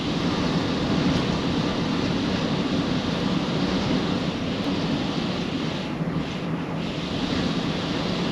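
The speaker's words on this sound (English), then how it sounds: "listen to the wind that we're dealing with up here" Strong wind buffeting a clifftop campsite in Nebraska during tornado season, a continuous loud roar with rumbling gusts and no voices.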